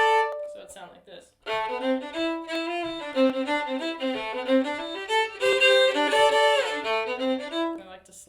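Fiddle playing double stops in fourths from the tune Jerusalem Ridge, a run of bowed paired notes with slides, close and clear, after a short spoken lead-in.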